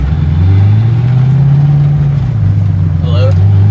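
A full race car set up for drifting, with stiff full suspension and a broken tie rod, cruising along: loud, steady engine drone heard from inside, rising and falling slightly, with a voice talking over it.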